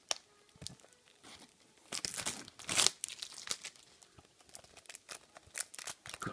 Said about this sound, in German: Aber wir machen erstmal die Folie ab.